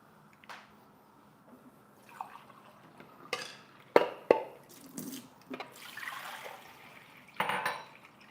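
Water being fetched in a kitchen for a pork and sauerkraut pot: pots and dishes clink, with a few sharp knocks and a brief pour or splash, fairly close.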